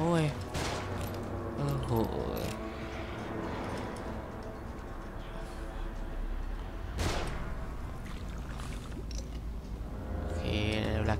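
Rapid bursts of gunfire from the video game The Evil Within, sharp cracks over a dense background of game sound, with a person exclaiming over the shots.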